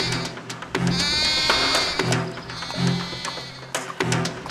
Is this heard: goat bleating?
yes